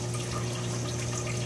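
A reef tank pump runs and stirs calcium hydroxide into fresh RO water, making a loud, constant watery rush with a steady low hum beneath it.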